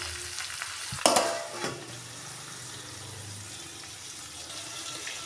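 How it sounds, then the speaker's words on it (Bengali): Raw mango simmers in a covered pan with salt and turmeric, giving a low, steady bubbling sizzle after a brief clatter near the start. "আমি একটু ঢাকনা দিয়ে আমটা সেদ্ধ হতে দেবো।"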